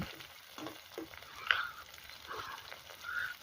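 Chopped tomato, curry leaves and red chili sauté quietly in a pan, a soft crackling sizzle broken by occasional stirring scrapes, with no voices.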